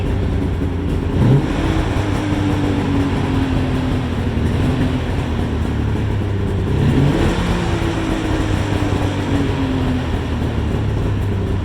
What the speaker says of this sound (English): come on, Trent, let's hear this thing with the stock exhaust.